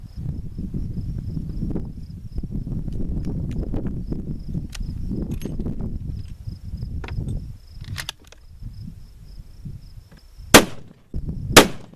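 Two sharp, loud rifle shots from a 6.5x300 Weatherby crack out near the end, with outdoor rustling and handling noise before them and crickets faintly in the background.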